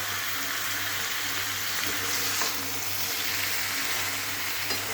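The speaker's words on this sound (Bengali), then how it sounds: "এখন আমি ম্যারিনেট করা কাঁঠাল, চিংড়ি আর পেঁয়াজ ভাজাগুলো দিয়ে দিলাম। দিয়ে ভালো করে এটাকে আবার কষিয়ে নেব।" Marinated jackfruit, prawns and fried onions sauté in a pan for a yogurt jackfruit-prawn curry, giving a steady, close, even sizzle and crackle that runs unbroken throughout, with no talking.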